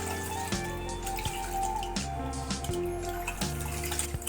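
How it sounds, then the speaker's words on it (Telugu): Rice is washed in water, with repeated sloshing and splashing plus faint running-water sounds and small clinks from the vessel, steady and close, with no voices. "బియ్యాన్ని 2 సార్లుగా కడగాలి"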